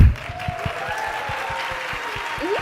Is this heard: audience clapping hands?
yes